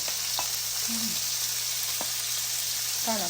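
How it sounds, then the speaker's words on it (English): Squash frying in a hot pan with pepper and tomato, a steady broadband sizzle running throughout with a few faint clicks and light stirring, quiet voices barely present. "This will fry up the squash, right?"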